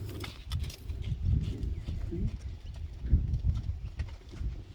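Horse hooves clip-clopping in a video game demo, a steady walking rhythm of soft thuds with faint snorts, fairly close and moderately loud over low background ambience.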